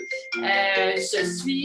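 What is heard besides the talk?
mobile phone ringing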